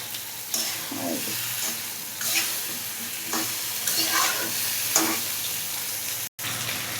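Koi fish curry fries in a pan while being stirred, a continuous close sizzle overlaid with periodic spoon scrapes and soft wet turns every second or so, briefly cutting out near the end.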